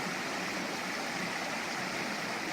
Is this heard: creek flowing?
yes